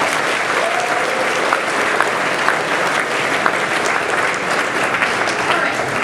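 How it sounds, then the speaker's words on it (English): Students at a Southern California fall state event in a Marriott hotel give themselves a loud round of applause, sustained crowd clapping with faint voices mixed underneath. "So give yourselves a round of applause."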